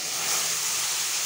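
Water poured onto hot spice masala in a pan for a Bengali red spinach and stingray curry gives a loud, close, continuous hiss, with no voices.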